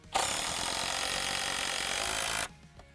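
A SPAX PowerLag screw is driven home with a power drill in one loud, steady burst of about two seconds that stops abruptly.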